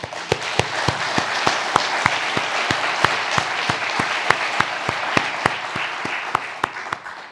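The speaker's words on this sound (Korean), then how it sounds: "우리 하나님께 감사의 박수 드립시다" A church congregation applauding in thanks, with a steady wash of clapping punctuated by one sharp, rhythmic clap repeating close by throughout.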